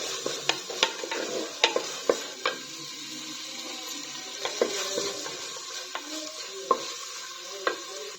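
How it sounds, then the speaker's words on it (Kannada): Mackerel fries and sizzles in a pan for a spicy home-cooked dish, with a steady crackle broken by a dozen sharp scrapes and clicks as a utensil stirs it close by. No one speaks. "ತುಲೆ ಫ್ರೈ ಅವನಂತು"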